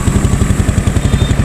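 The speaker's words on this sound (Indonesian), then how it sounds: "teman-teman juga bisa dengar nih suara mesin dari Honda Beat tahun 2012" A 2012 Honda Beat scooter engine idles close by, a steady rapid low putter with a slight mechanical clatter and no talk over it.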